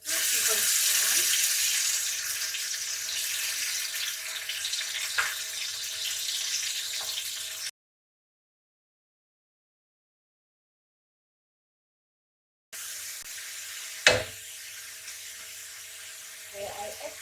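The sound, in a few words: blended onion frying in a pan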